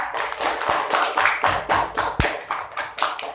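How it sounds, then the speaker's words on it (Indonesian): Classroom applause for a student during an Islamic religious education lesson, brisk rhythmic clapping from a small group in a room, with a few sharper individual claps standing out near the end. "tepuk tangan untuk dia"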